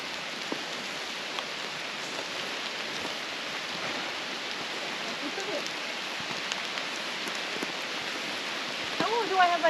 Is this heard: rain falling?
yes